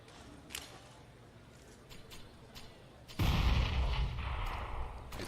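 In a CS:GO esports match, a flashbang goes off as a sudden loud burst midway through, following a few quieter gunshot pops and distant clatter from the game.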